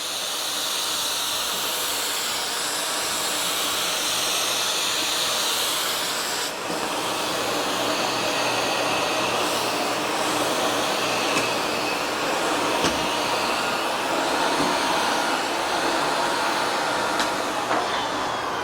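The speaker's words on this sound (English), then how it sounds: "we'll use the vacuum on its 4th suction setting" A steady, loud whooshing roar of a Miele Classic C1 TurboTeam vacuum cleaner with turbo brush running continuously on a rug, with a faint rhythmic brushing texture, no voices.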